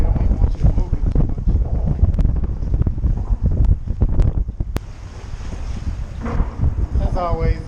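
High winds sweep across Lake Conroe during kayak fishing from a Hobie Pro Angler, buffeting the microphone with loud, gusty rumbling over lapping water and occasional faint voices.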